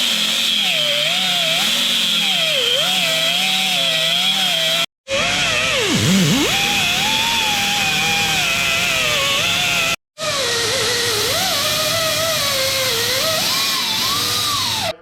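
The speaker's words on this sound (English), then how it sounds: "Probably going to be my 90-degree cutoff tool." A 90-degree cutoff tool cuts through a seat mount on a 1997 Jeep TJ Wrangler, a loud, close, high-pitched grinding whine whose pitch wavers under load, in three long bursts split by brief pauses.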